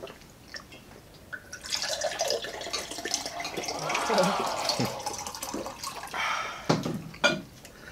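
Drinking water is poured after a meal of humba pata and lechon manok, a short splashing, gurgling pour with faint drips at the start and a few clinks near the end.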